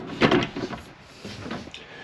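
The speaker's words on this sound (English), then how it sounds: "You do have the nice pocket door." A pocket door in a 2025 Grand Design Solitude 380FL fifth wheel RV slides along its track with a few close wooden rolls and bumps, moderately loud.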